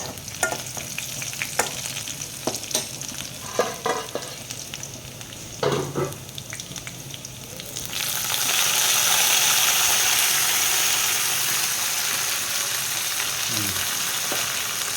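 In a Kerala home kitchen making fish curry, light clinks of a spoon against a pan come first, then curry leaves hit hot oil and burst into a loud, sustained sizzle that keeps frying while being stirred.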